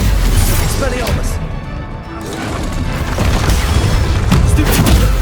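Expelliarmus disarming spell going off in Hogwarts Legacy combat, a loud crashing magical burst over a dense layer of battle noise, with further impacts and whooshes continuing throughout.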